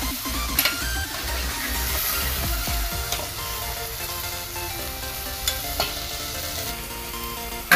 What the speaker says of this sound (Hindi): देखो ऐसे ही तेल में इसको पकाने हैं